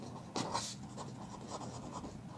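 Someone writes on a board during a maths lecture, making close, scratchy strokes in short bursts with a sharper tap near the start. No one talks.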